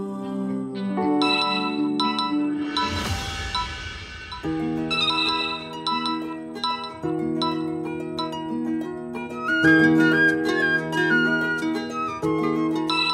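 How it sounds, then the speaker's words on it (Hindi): A phone ringtone plays at night as a tinkling, chiming melody, fairly clear and continuous, with a brief whooshing burst early on. "ईशु, उठा ले फोन"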